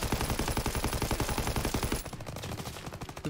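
Rapid automatic gunfire in Call of Duty WW2, a dense, loud, steady rattle of shots that continues without a break through the whole stretch.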